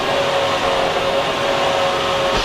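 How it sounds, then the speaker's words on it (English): A household vacuum cleaner running normally, a steady close whirring drone with a constant motor whine held evenly throughout, no voices. "the vacuum is making the regular vacuum sound of"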